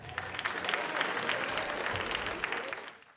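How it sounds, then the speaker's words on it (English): Audience applauding at a 2024 Kwanzaa celebration, steady dense clapping from a crowd that holds for about three seconds before tapering off. "So please welcome, a big round of applause for Fred Sherman."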